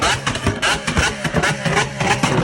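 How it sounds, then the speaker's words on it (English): A Lamborghini hybrid hypercar with 920 combined horsepower revs hard at a hypercar event in the UK, loud rapid pulsing engine bursts with crackling exhaust, close up, with faint voices mixed in. "Hell of a lot of horsepower coming out of that engine."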